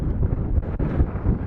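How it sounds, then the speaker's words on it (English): Strong wind buffets the microphone at the summit of Walton Scar Road, a steady low roaring gust with no pauses and no voice over it. "The wind's picked up, so hopefully you'll be able to hear me all right."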